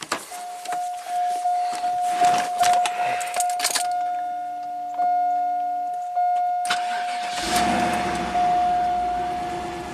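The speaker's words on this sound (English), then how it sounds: "so we'll have to start the car" Cadillac car engine cranking and catching after keys jangle, then settling into a steady idle; a continuous tone runs throughout, with the start loud and near and no talking.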